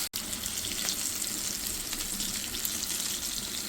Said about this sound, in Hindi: ऑयल मैंने रख दिया गरम करने के लिए, आवाज़ भी आ रही होगी आपको, पट पट हो रहा है उसके अंदर।